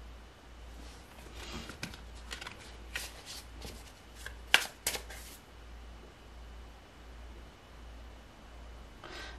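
Tarot cards being shuffled close by, a soft patter of riffling flicks and slaps that bunches into a busier burst midway, over a low steady hum, with no voices.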